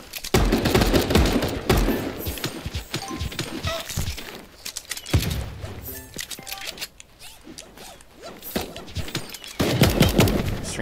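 Gunfire in the online battle royale game Super Animal Royale, a dense, continuous rattle of rapid shots and impacts filling the clip, loudest at the start and end, with no talking over it.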